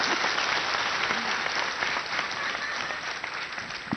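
A crowd applauds loudly at a Hindi poetry recital (kavi sammelan) in Allahabad, dense steady clapping filling the whole stretch at close range with no voices over it.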